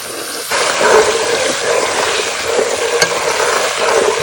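Garlic sizzles in a pan as half a cup of water goes in, a steady loud frying hiss with a faint clink partway through and no voices.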